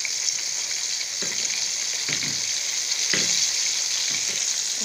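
Liver sizzling steadily in a pan over low heat as the pieces are flipped, a constant loud hiss broken by a few soft scraping and tapping sounds from turning them, with no speech.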